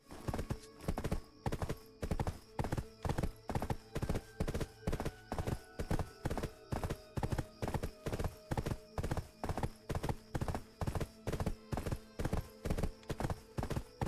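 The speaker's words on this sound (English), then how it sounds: "It's just a horse." Horse hooves clip-clopping in a live-streamed video game, a fast steady rhythm of evenly spaced hoof strikes running throughout, loud and close, with a faint neigh and some voice chatter in the background.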